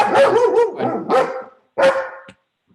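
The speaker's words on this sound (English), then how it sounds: "That's my dog." A dog barks several times in quick succession, loud and close, then gives one more sharp bark after a brief pause.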